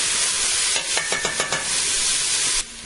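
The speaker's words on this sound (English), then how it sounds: "add in a medium onion that I diced up and get this cooking a while on here with the beef" Diced medium onion cooking with browned beef in a pan over low heat, giving a steady broad sizzle with a few brief stirring scrapes in the middle before the sizzle drops off at the end.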